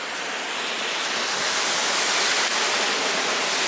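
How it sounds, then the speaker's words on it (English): Gufu waterfall in Iceland roars as a steady, loud broadband rush of falling water, close and continuous with no voices over it. "Nate's bringing me the Gufu waterfall"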